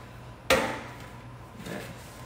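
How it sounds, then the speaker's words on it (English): Metal baking sheet set down under a flimsy disposable pan in a kitchen, one sharp clattering knock followed by a softer scrape or thud a second later. "I'm gonna put a baking sheet under it just to give it some stability."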